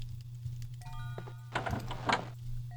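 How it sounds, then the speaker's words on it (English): A door creaks open in The Elder Scrolls II: Daggerfall, a short sliding, thunking movement set over a steady low game hum, with a brighter burst of activity near the end. Nobody speaks. "That door just opened."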